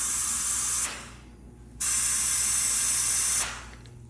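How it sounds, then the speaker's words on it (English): Two hissing sprays of soapy water from a spray bottle onto an air fitting on a Caterpillar D3B bulldozer. Each spray lasts about a second or more, with a short pause between them, close and fairly loud. "I got a bottle here with some soapy water. Been spraying on this."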